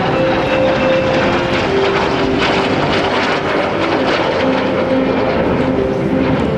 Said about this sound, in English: Jive's going to come back with a right to left, slow roll with approximately 370 miles per hour